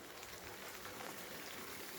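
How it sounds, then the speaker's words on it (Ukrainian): Steady, dense rain hisses evenly with no pauses, a constant wash of falling water, fairly faint. "У нас пішов дуже мощний дощ"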